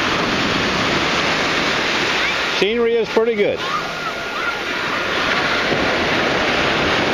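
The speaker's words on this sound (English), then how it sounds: "The waves aren't too bad." Ocean waves break on a beach at low tide, a continuous loud rushing roar of surf, with someone briefly speaking over it midway.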